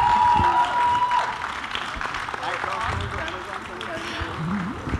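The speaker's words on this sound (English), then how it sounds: "Let's hear a huge round of applause for them" Applause from a media crowd at a promotional event, steady clapping through the whole stretch with murmuring voices and a short tonal sound near the start.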